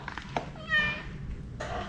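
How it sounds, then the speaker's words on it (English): A house cat meows once, close by, in a kitchen where a large grocery haul is being unloaded, followed by brief rustling. "I have a kitty here being a helper"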